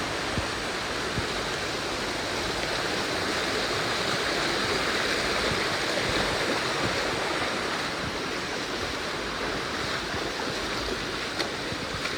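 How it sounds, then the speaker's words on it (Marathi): A stream on the Panhala to Pavankhind trek rushes continuously, a dense, steady wash of flowing water that stays loud and even throughout with no voices. "आता पुढं बघा किती पाणी वाहत आहे एका साईडने."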